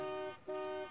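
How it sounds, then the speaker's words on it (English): A bus horn in the SimCity 2000 video game sounds two clear, even tonal honks in quick succession, short and clean with no talk over them. "Oh, there's the horn sound."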